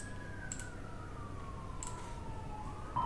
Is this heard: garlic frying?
no